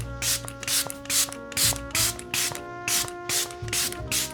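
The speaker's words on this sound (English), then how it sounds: "So this is like a fixing spray, so it's going to hold my makeup all day" Short bursts of makeup fixing spray (a fixer mist) hit the face in a steady rhythm, about nine close, loud hisses, each followed by a pause, with a faint electronic hum underneath.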